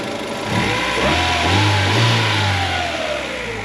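A 1998 Acura Integra GS two-door hatchback with a B18B1 engine runs close by, a steady smooth hum that swells and eases slightly as it revs, fairly loud and alone.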